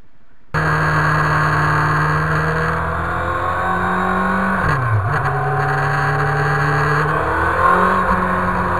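Engine of a Ducati 999 motorcycle idling steadily and close up, a continuous low drone that briefly dips and rises once midway, then holds its even running note to the end.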